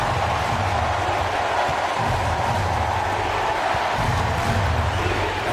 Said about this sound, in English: And the crowd now is in a frenzy.